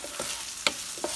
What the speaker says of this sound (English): You can hear that that's still sizzling just a little because I turned up the heat